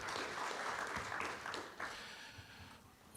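Audience applause welcoming guests to a panel discussion, a soft, fairly distant patter of clapping that fades over a few seconds before a brief louder sound at the very end.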